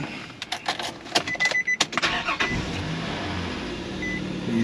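A cheap used car engine is cranked and started, with several short clicking and whirring bursts in the first two seconds before a steady idle settles in, close and moderately loud.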